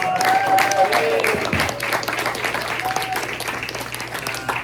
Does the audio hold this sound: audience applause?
yes